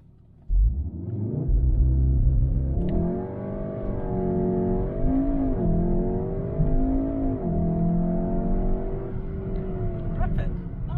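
A VW Golf 7.5R launches hard, its engine roar building through rising, stepping gear pitches as the car accelerates for several seconds, loud and close with a steady rumble beneath.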